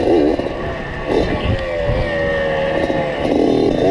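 A Suzuki Satria two-stroke motorcycle, modified for trail use, runs steadily on a rubber plantation track, its engine drone continuous and close with wind buffeting the microphone throughout.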